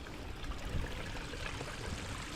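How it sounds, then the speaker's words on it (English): Gentle trickle of a little babbling brook after rain, a soft, faint, continuous burble of flowing water with no talking. "A little babbling brook coming through over here."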